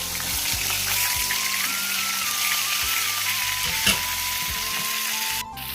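Fish sizzles loudly in hot oil in a wok, a constant close crackling hiss with occasional scraping knocks and a brief clatter, no voices.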